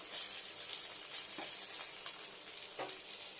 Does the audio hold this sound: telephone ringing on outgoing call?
no